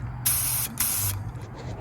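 Two bursts of spray gun hiss spraying acetone with the fan wide open, each about half a second, separated by a short pause, with a low mechanical hum underneath.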